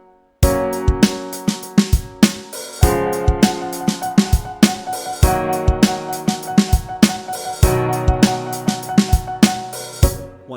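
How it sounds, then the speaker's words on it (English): Keyboard chords struck in a steady triplet rhythm, three even hits per beat with accented first hits, loud and close and played alone for about ten seconds. "splitting up every division of quarter notes here into 3 hits of the key."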